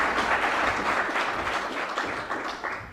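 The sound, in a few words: audience applause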